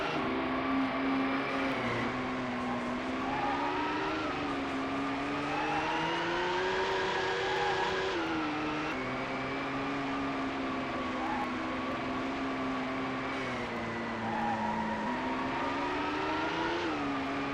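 A race car engine in the video game GT 64: Championship Edition drones at a high, buzzy pitch that rises and falls with repeated revving and gear changes, steady and loud with no talking.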